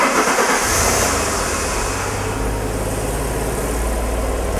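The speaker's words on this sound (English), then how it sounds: "I'll just start the car and then we'll see what signal we've got" A car engine cranks and catches, then settles into a steady low idle with a constant hum that holds to the end, with no talking over it.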